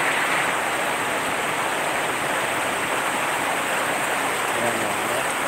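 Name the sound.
heavy rain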